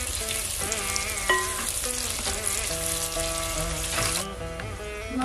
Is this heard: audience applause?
no